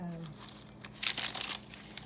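Parchment paper for a barbershop-themed junk journal crinkles close up in a short cluster of crisp rustles, preceded by a brief hum and light handling noise.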